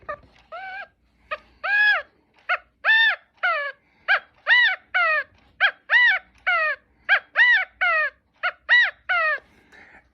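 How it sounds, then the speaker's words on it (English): California quail calling as a gamebird clock chime, a long run of loud, close, repeated nasal notes in a quick, uneven rhythm, alone with no talk. "7 o'clock is the California quail."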